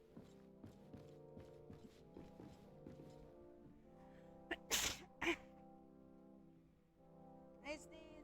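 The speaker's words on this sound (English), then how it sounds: "I sneeze." A person sneezes indoors, a sharp burst followed by a second one close behind, after soft footstep-like taps and faint low tones, then quiet with a last short noise.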